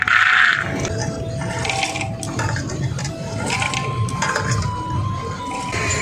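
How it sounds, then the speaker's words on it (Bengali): Water poured from a vessel into a pot of washed kabuli chickpeas for boiling, a steady splashing fill running close and continuous with a faint tonal whine behind it. "পরিমাণ মতন আমি জল দেব।"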